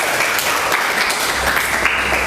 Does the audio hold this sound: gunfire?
no